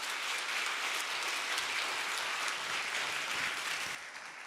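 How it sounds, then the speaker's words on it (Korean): Congregation at a Korean Presbyterian church Sunday service in Detroit claps in welcome as a guest comes forward, a dense, steady wash of many hands that thins slightly near the end. "우리 나오실 때 한번 힘차게 환영의 박수로 맞이하겠습니다"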